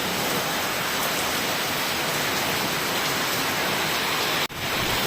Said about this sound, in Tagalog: pasok ulan muli isang oras na itong ulan na ito guys